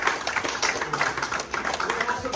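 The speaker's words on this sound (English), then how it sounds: "So, boys, a massive round of applause," Scattered clapping from a small group of boys at a youth football club presentation day in Wycombe, modest and uneven over a couple of seconds, with faint voices underneath.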